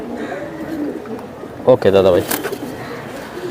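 Pigeons of the military breed coo in short low bursts near the middle, set against room background noise and people talking.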